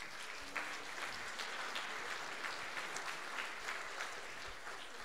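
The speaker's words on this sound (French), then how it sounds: "Est-ce qu'on peut les applaudir déjà ?" An audience applauding at a church service, dense steady clapping from many hands that holds evenly for about five seconds, with faint voices mixed in.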